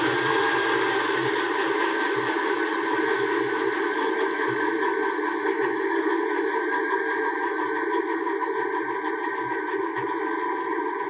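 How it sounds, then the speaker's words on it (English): A blender whirs continuously at a steady high pitch, loud and close, running alone without pause while making a gel mixture for homemade shirataki noodles. "I'm going to go ahead and start my blender."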